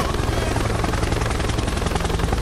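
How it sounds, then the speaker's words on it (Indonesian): A loud, steady helicopter rotor thrums nearby, a dense rhythmic chopping that continues without pause. "Helikopter, helikopter."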